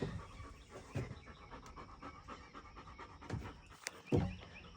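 A dog pants quietly and steadily, with soft breathy puffs and an occasional faint whimper over a low, noisy indoor background.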